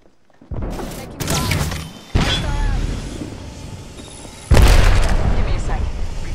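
A grenade explodes in Apex Legends, with several heavy booms, each one a sudden loud onset followed by a rumbling tail, the last the strongest, while a player talks over them.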